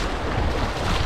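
Strong river current rushing at Los Chorros in the Huasteca, a dense, steady wash of flowing water that fills the clip, close and continuous with no voices.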